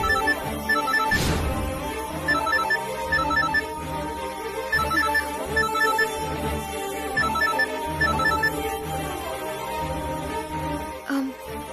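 A phone ringtone plays a repeating melodic pattern of steady electronic tones for an incoming call from an aunt, sounding close and continuous throughout with faint background sound.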